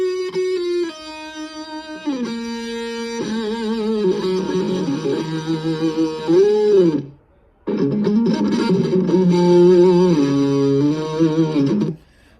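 Electric guitar solo played dry with no effects, a melodic line of sustained, bending notes that runs steadily, drops out briefly near the end, then resumes.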